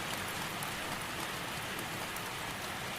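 Rain falls steadily against the windows of a shop on a rainy afternoon, a dense, even hiss that holds unchanged throughout.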